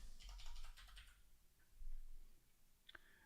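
Quick, faint clatter of keys being typed on a computer keyboard in a burst, then a pause and a single sharper click, close and quiet with no talking.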